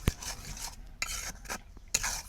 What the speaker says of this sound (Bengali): আমি একটু নেড়ে ছেড়ে আরও একটু কিছুক্ষণ জাল করে তারপরে জেলিটা নামাবো।